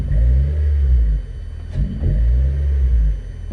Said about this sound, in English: So what I think we'll do next is give it a rev.